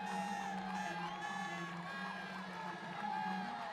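Crowd welcoming sailing skipper Kojiro Shiraishi at the race finish: a steady, dense wash of cheering and whooping with horn-like tones and shouts throughout.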